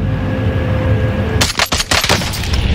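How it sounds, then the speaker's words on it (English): Gunfire in Warzone, with a rapid burst of sharp, loud shots starting partway through over a steady background game hum, fitting a sniper-rifle exchange. "Oh shit, they sniped me"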